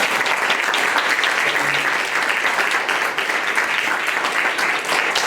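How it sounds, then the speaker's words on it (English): A panel discussion audience gives its panelists sustained, full applause, a thick continuous roar of many hands clapping that holds steady throughout and fades only slightly near the end. "Could we get a round of applause for our panelists"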